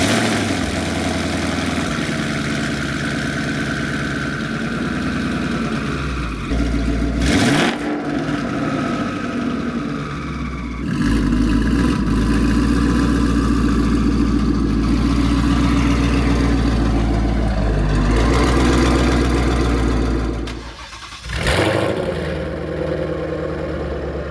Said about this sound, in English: the world's first ever cold start twin turbo Corsa active exhaust, Lethal exclusive, made by Corsa, double H pipe